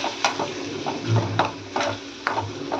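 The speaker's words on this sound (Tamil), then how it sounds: "நல்லா கிளறி விட்டுக்கோங்க 2 நிமிஷம்" Eggs and spring onion greens are stirred in a frying pan, with a low sizzle under sharp, irregular spatula scrapes and taps against the metal, close and fairly loud, no speech.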